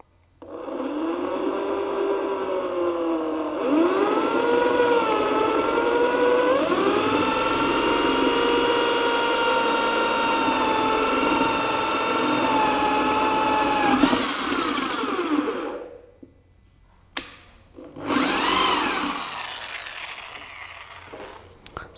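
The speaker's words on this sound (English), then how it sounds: "we place it here and we drill at a lower RPM. So it gets pivoted and then we go full speed" A Bosch GSB 500 RE corded impact drill runs close up, starting at a lower whine, then rising sharply to a steady full-speed scream for several seconds before spinning down, followed by short bursts of revving.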